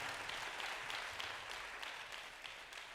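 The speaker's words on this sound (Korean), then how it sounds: "다시 한번 뜨겁게 박수하겠습니다." Faint, distant applause from a church audience at a university group talk show, a steady patter of many hands clapping with no voices on top.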